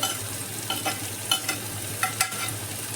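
Two sliced medium onions and four green chillies frying in hot coconut oil for a mutton stew, a steady close sizzle broken by occasional stirring scrapes, with no voices.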